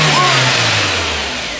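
A VW Passat B5 engine revs hard right after starting, a loud close roar that sinks smoothly in pitch as the throttle eases off.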